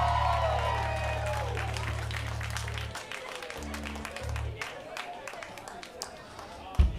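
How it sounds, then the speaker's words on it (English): Audience applause at a school rock music senior show, a dense patter of clapping with scattered cheers over a fading band tone, tapering off toward the end. "One more round of applause for Shank."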